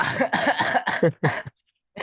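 A run of rough, close coughs in quick succession, then a brief pause and another short cough.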